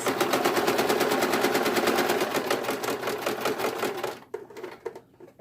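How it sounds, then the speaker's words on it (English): Rapid, loud machine-gun-like stitching from a sewing machine running over a fabric face mask for about four seconds, then slowing into a few short bursts before stopping. "This side I'm just going to go ahead and sew the rest of it."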